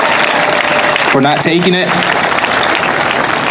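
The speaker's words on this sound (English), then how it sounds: "A round of applause for them, for stepping up, for taking charge," A crowd at a Families Belong Together rally in Cleveland applauds continuously, a dense wash of clapping and cheering throughout, with a speaker's voice cutting in briefly over it.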